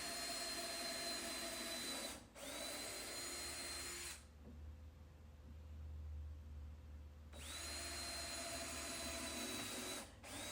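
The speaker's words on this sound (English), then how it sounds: "I'm using a 3/16 drill bit and just going to go in and drill all the holes." A power drill with a 3/16-inch bit whines in sustained bursts, stopping briefly between holes, with a low rumble during the quieter gap; no talking.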